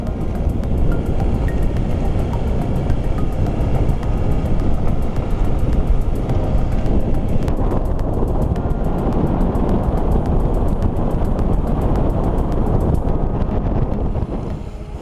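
A Honda ADV 150 scooter rides past rice fields, with constant engine drone and heavy wind rumble buffeting the microphone throughout, loud and steady; no talking.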